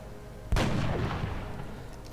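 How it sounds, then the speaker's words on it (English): A single sniper rifle shot fired in the video game XCOM: Long War, a sharp loud crack followed by a long rumbling decay. "we'll just take our sniper shot and hope."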